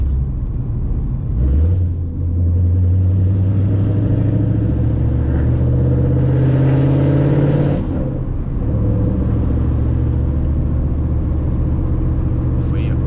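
A Ford Mustang GT S197 engine rumbles loudly from inside the car during a point-of-view drive, rising in pitch as it accelerates, with a brief surge of intake or exhaust noise in the middle and a person talking over it.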